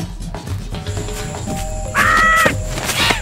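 Cartoon birds caw in the Madagascar 2 video game, sounding several loud, harsh calls close by with a prominent squawk near the end over faint background game sounds.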